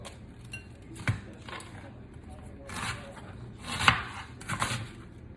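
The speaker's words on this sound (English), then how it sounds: "I'm gonna cut out that triangle with a paring knife" A paring knife cuts through salad vegetables on a board, giving a few soft, separate slicing and tapping sounds at close range under quiet room noise.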